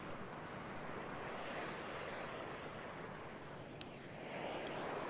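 Ocean surf washes steadily onto Hon Chong Beach in Nha Trang, a continuous roar of breaking waves with wind buffeting the microphone and no voices.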